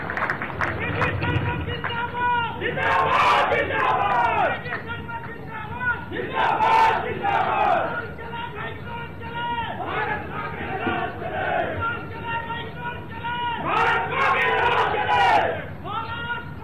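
A large crowd at a BJP farmers' rally in Rewa cheers and shouts in loud, swelling waves, with scattered clapping mixed into the roar.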